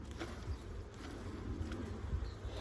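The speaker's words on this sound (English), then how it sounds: "So you see I got bees on the inside of this cover." A steady, low buzz of many honeybees humming close by inside a hive cover, continuous throughout with slight swells in loudness.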